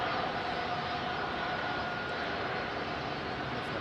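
An Airbus A380 departing Heathrow, a distant, steady low roar of jet engines that holds at an even level throughout, faint and alone with no voices.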